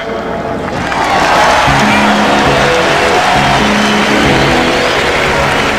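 A basketball arena crowd at an NBA game cheers in a loud, sustained roar, a dense wash of voices holding steady for several seconds with faint tonal sounds beneath.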